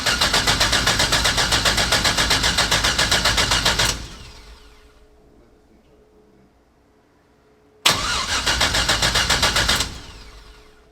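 A 1968 Pontiac Firebird with Terminator X fuel injection cranks and fires up into a loud, steady, rumbling idle, cuts out into a few seconds of near silence, then restarts abruptly and runs strongly again.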